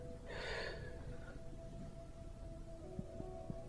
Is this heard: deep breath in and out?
yes